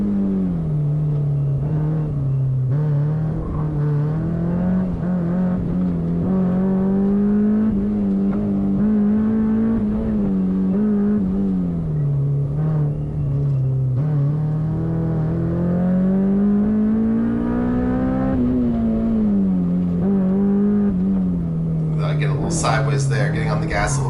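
A Honda S2000 prepared for CSP class runs an autocross course through a slalom, its engine droning loud and close throughout and rising and falling in pitch with throttle and gearing, while someone talks over it.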